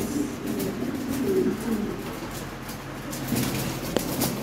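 A pair of white Lahori pigeons gives low, rolling coos, repeated in soft bursts close by against a faint background murmur.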